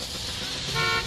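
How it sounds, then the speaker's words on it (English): A car horn gives one sustained honk, loud and close, over a dense wash of noise, in the racing game Gran Turismo Sport at the start of a race at Interlagos. "Horns honking."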